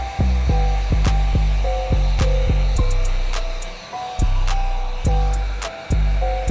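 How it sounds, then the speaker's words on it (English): A heat gun blows a steady hot-air hiss under window tint film to shrink it, loud and continuous, with repeated short clicks and tonal blips cutting in at regular intervals over the constant airflow. "just blow some air underneath it to heat up the edge"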